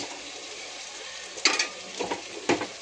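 Mixed vegetables for veg pulao fry in a pan, a soft steady sizzle broken by several sharper scraping stirs toward the end.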